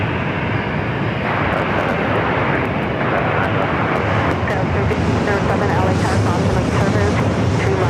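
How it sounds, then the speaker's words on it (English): A China Eastern airliner in a special CIIE livery at Los Angeles International Airport gives a loud, continuous jet engine roar that holds steady throughout and is heard alone. "CIIE Special Livery of China Eastern."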